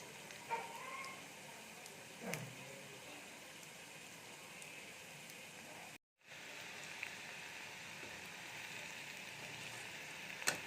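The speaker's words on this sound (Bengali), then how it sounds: "এইভাবে প্রত্যেকটা বল আগে ভেজে নেব।" Cheese potato balls deep-frying in plenty of hot oil, a steady, even sizzling crackle throughout, close and moderately quiet, with a few small pops and one brief dropout, no speech.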